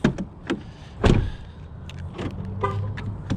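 Power door locks on a 2009 Ford F150 XLT pickup actuate with a few sharp, close mechanical clunks, one stronger thump in the middle, over a quiet background.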